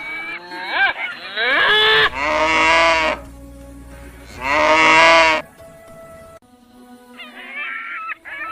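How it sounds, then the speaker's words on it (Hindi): Cattle mooing as livestock kept on a farm, several long, loud, drawn-out moos in succession with short pauses between, close by and alone without any talk. "बकरी, गाय, मुर्गी, इन जानवरों को पाला गया।"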